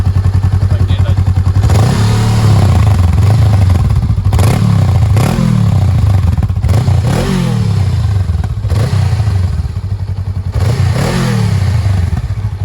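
A Honda Rebel CMX 500 motorcycle with its stock exhaust, revved close by in a series of sharp throttle blips that rise and fall over a steady, throbbing idle, loud throughout.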